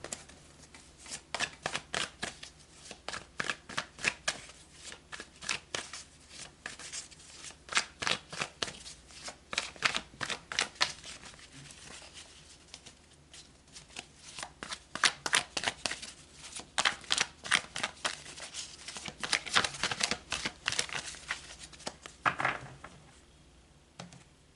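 Tarot cards are shuffled at close range over and over, with quick riffling bursts and short gaps in an uneven rhythm, loud and crisp with no talking.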